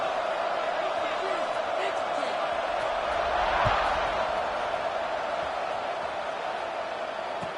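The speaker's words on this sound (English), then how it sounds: "this crowd is buzzing after that last score" A large football stadium crowd buzzes after a score, a broad, steady roar of many voices with a brief surge in the middle, under a commentator's voice.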